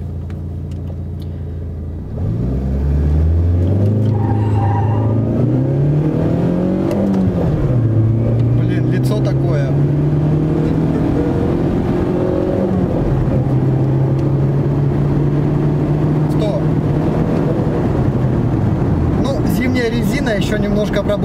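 A VAZ 2114 engine idles, then surges and revs hard as the car pulls away with wheelspin, rising through the gears with a loud, close, continuous roar.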